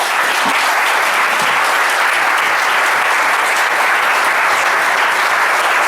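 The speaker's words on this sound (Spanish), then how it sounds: "por favor, un aplauso para el maestro Altuna" A lecture audience applauds the cartoonist Altuna at an open talk on illustrators' craft, a dense, steady roar of clapping hands that stays loud and unbroken from start to finish.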